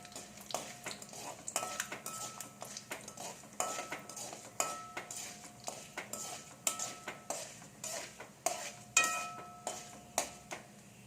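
A spoon stirring two dried red chillies in a pan for mango pickle, with repeated metallic scrapes and clinks in an uneven rhythm over a faint sizzle, close and fairly clear.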